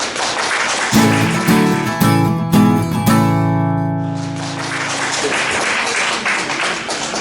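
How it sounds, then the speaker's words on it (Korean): Applause fills a room of parents at a Korean academy's admissions briefing, a broad steady patter that swells at the start and end while a sustained musical chord rings over it in the middle. "뜨거운 박수로 맞이해 주시기 바랍니다."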